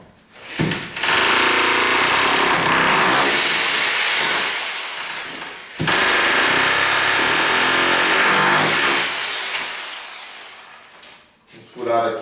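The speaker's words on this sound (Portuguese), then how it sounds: "Vamos furar aqui." A power drill bores into a wall, running in two loud sustained bursts separated by a short pause, each winding down at the end.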